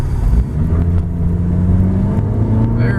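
A 1998 Honda Civic LX sedan's four-cylinder engine pulls hard at about 80% throttle on a test drive, a loud steady rising drone heard from inside the car, with no talking.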